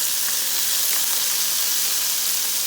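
Burger meat and garlic browning in a pan give a steady, bright sizzle that stays loud and even throughout, with no talking.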